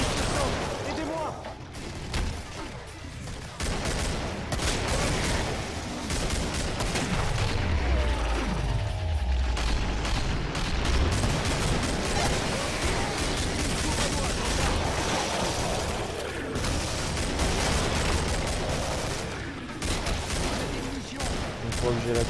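Dense gunfire fills a Killing Floor game session, with rapid bursts, booms and clattering shots layered over game effects, and a voice speaking now and then.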